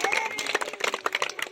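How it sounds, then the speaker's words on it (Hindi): A group of children clap together for a winner at a blindfold game, a brisk, uneven patter of hand claps filling the short moment at moderate volume. "इशिका के लिए एक बार तालियां हो जाए।"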